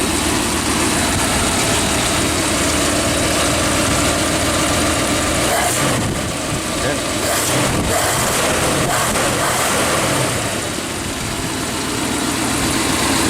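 A 1956 Lincoln Premiere's engine idles steadily for the whole stretch, a constant low rumble with a slight dip in level midway and no voices.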